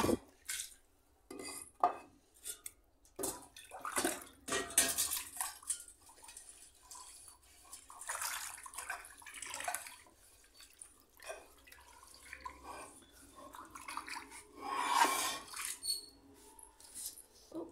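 Dirty dish washed under running water at an outdoor home tap, with intermittent splashing, dripping and clinks of dishware in bursts, nearby and fairly quiet.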